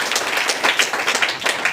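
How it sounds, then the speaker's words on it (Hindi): A meeting audience claps loudly for Neetu madam: a dense, steady wash of many hands with brief swells, continuous throughout. "नीतू मैडम के लिए जोरदार ताली बजाइए"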